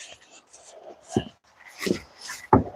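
A dog in a yard strewn with trash makes a few short breathy whimpers and snuffles, close by, in three brief bursts.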